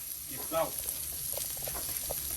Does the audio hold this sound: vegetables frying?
yes